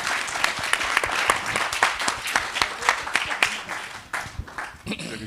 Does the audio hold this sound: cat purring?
no